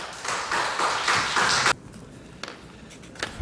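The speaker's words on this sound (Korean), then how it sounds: "선교사님 나오실 때 박수로 환영하시겠습니다." A church congregation claps to welcome a missionary home from North India, a dense, loud burst of many hands that cuts off abruptly, followed by a few faint scattered claps in a quiet hall.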